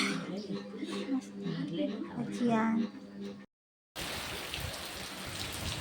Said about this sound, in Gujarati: જા રાતનો વરસાદ છે